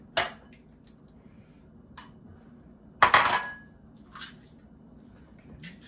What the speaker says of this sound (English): Why don't you crack some eggs into the bowl?